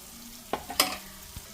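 Chili powder and spices being stirred into a frying pan for potato fried rice, a low sizzle under a couple of distinct spatula knocks and scrapes, close and without speech.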